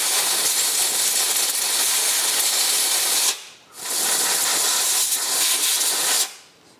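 Compressed air blasts oil out of a Land Rover Defender TD5 ECU, a loud steady hiss in two long bursts separated by a short pause, followed by a third starting near the end.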